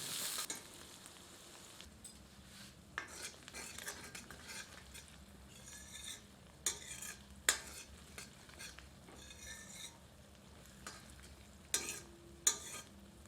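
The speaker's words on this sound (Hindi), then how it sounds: "प्याज को मध्यम आंच पर तब तक भूनते हैं" Onions sizzle steadily in a hot pan over medium heat, with occasional scrapes and clinks of a utensil stirring, close and fairly quiet, no talking.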